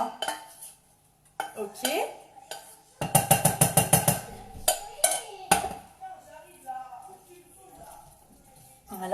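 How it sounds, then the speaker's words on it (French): Spinach being mixed into waffle batter in a bowl, with a rapid burst of clattering utensil strikes and scraping against the dish, interspersed with pauses and a brief spoken word. "Voilà, je mélange bien."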